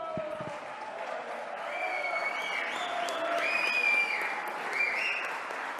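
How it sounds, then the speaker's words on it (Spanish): Audience at an official signing ceremony for a municipal fiscal fund in Buenos Aires province, clapping steadily in a hall that swells slightly toward the middle, with a few cheers and whistles over the applause. "Espero que esos aplausos se repitan en el tiempo."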